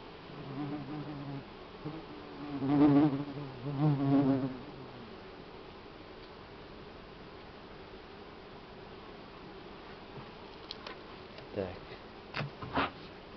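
Buckfast honey bees drone at an open hive in August, a soft, continuous buzz with a few louder close passes of single bees, faint overall and steady, with brief soft talk early on.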